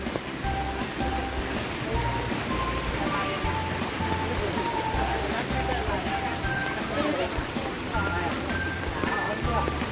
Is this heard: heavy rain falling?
yes